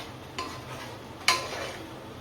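Masala from a Dindigul biryani kit being stirred in a pan, two separate scraping strokes set against a quiet, low background.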